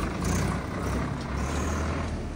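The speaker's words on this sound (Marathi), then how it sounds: "आता ट्रॅक्टर चाललेला आहे" A Swaraj 744 FE tractor drives away, a steady low engine rumble that holds without change through the clip.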